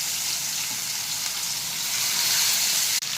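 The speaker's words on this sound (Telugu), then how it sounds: "ఇప్పుడు పెనం పెట్టుకొని ఆయిల్ వేసుకొని చికెన్ వేసేసుకుందాం" Chicken coated in chili powder, turmeric, garam masala and coriander powder fries in oil in a pan, giving a dense, even sizzle close by that holds steady and breaks briefly just before the end.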